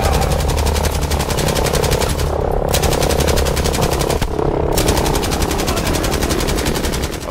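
Sustained, loud automatic gunfire in the World War II shooter Battlefield 5, a rapid, steady stream of shots with two short breaks, continuous and close throughout.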